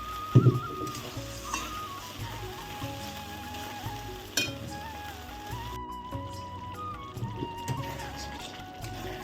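Prawns cooking in a Bengali malai curry, a soft steady bubbling simmer with a faint sizzle, broken by a couple of sharp utensil knocks.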